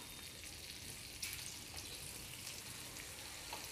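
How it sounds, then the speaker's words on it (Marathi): Sliced bell pepper sautéing in a kadai for kadai chicken, a steady soft sizzle of frying with faint stirring scrapes, quiet and continuous with no voices. "ढोबळी मिरची पण आपल्याला 1 मिनटं परतून घ्यायची आहे."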